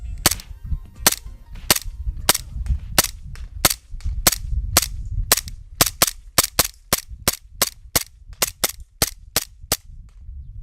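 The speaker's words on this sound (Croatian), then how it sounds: "airsoft pištoljem gađat na 20 metara i biti ovoliko precizan" An M9A1 airsoft pistol replica fires outdoors at a target about 20 metres away. Roughly twenty sharp, snappy shots come close and loud in an uneven, fairly quick series, with no one talking.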